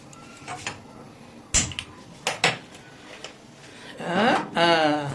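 A metal pressure cooker lid clanked shut over mutton for biryani, with several close metallic knocks and scrapes and a final grinding twist near the end.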